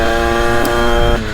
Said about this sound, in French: Je vais laisser terminer juste la moto de chauffer.